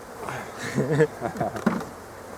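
Honeybees buzz in a low, steady drone close by at hive frames during queen rearing, with murmured voices mixing in over it.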